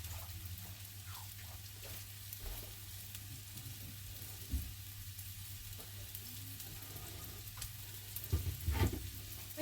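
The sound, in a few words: beef searing and sizzling in a frying pan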